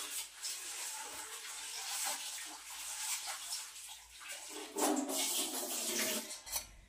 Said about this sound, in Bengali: ডালটাকে আমি ভালো করে ধুয়ে নিই